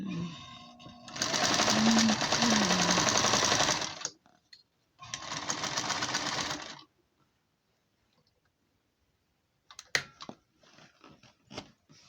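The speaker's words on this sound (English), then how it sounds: "Just gonna give it another stitch just to notch it at the end here." A sewing machine stitches a new cover for an outdoor cushion, with the cushion already inside. It runs in two steady bursts of several seconds each, then falls silent apart from a few faint clicks and handling noises.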